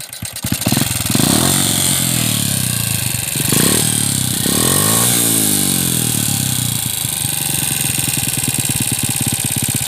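A motorcycle fitted with a swapped-in Honda TL engine runs loud and close, revving up and down several times over a steady idle, with no voices.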